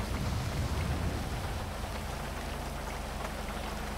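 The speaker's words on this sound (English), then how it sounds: "it's raining pretty hard out here." Heavy rain in the video game GTA 5 pours down steadily, a dense continuous hiss of drops with a low rumble underneath, and no voices.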